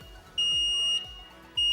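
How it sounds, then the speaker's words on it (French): An engine cleaning machine signals the end of its cleaning cycle with long, piercing electronic beeps, two full tones and the start of a third, evenly spaced and loud against a quiet background. "la machine émet un bip."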